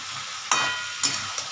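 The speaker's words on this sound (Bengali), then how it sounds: "এই মশলা যে এটা বেরোচ্ছে তাতে বোঝা যাচ্ছে কষছে আস্তে আস্তে তেল বেরোচ্ছে।" Spice paste stirred and fried in oil in a pan for a prawn curry, a steady close sizzle with a couple of scraping stirs, no talking.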